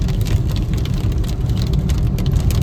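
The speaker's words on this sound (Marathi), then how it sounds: "एवढा पाऊस पडतो बापरे" Heavy rain pours down in a loud, dense roar with a deep rumbling undertone, steady and unbroken for the whole moment.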